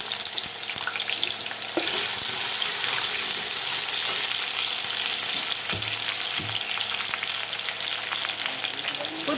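Potatoes fry in hot mustard oil for a cabbage and potato jhal, a loud, continuous sizzle with a few sharp clatters of stirring partway through.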